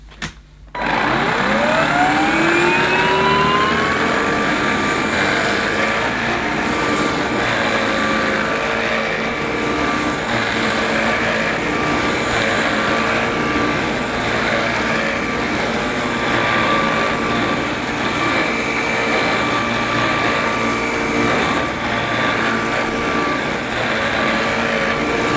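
A Hoover Sprint cordless vacuum cleaner starts after a moment of silence with a rising whine, then runs steadily and loudly at close range for the rest of the clip, its motor tone holding level throughout.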